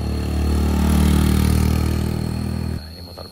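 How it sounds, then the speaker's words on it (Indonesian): A Honda Beat motorcycle engine runs close by with a steady mid-pitched hum that swells slightly, then cuts off abruptly near the end, leaving quieter background. "Nah, ini motor beat sana."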